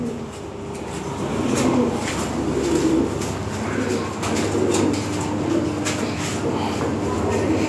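Lahore siraji pigeons coo softly and steadily nearby, low repeated calls under a constant background hum, while someone talks over them.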